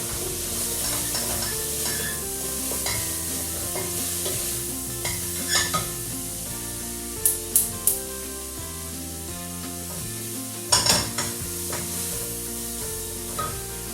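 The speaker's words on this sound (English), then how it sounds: "we're going to add the cayenne pepper because we want to be sweating the spices off" Onions and cayenne pepper sizzle in a pan for spiced sweet potato, squash and coconut soup, a constant close frying hiss broken by several sharp clanks and scrapes of stirring, with no voices.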